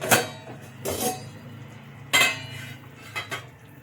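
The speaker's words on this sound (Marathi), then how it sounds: "आता आपण इथे झाकण काढून घ्यायचंय" Metal cookware clanks and clatters a few times, sharp clinks of a lid lifting off a pot of boiling fish curry gravy, close by with quiet pauses between.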